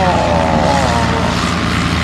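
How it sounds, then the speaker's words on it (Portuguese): Airplane sound effect played on a Brazilian radio or TV show, a loud continuous propeller drone with a wavering engine tone filling the whole stretch, steady and close with no talk over it. "Esse avião é demais."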